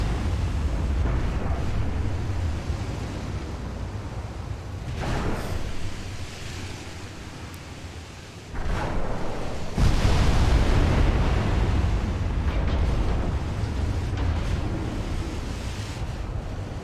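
Naval gunfire and shell hits in the Ultimate Admiral Dreadnoughts warship game, a continuous loud roar of booming blasts and rumbling impacts, with a sharp new surge of explosions partway through and no talk.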